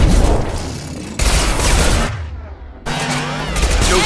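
Dense, loud gunfire from a Mass Effect 2 firefight, a sustained rattle of rapid shots that briefly drops away near the middle before resuming just as heavy.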